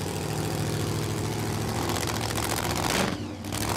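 Blown Hemi-engined drag racing cars at Warwick Dragway in Australia give off a loud, deep, lumpy idle that holds steady, then briefly dips near the end.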